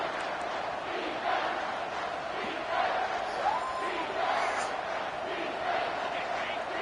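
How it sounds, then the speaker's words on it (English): A football stadium crowd at a Michigan State game roars in a sustained wall of cheering and yelling, swelling in a few waves over the whole stretch, with no distinct talk on top. "This crowd rising up, sensing that its defense needs some help."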